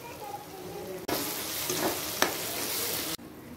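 Pieces of leftover roti frying in a pan with tomato, salt and turmeric, a close, steady sizzle that rises abruptly, holds with a brief sharp utensil tap, then cuts off.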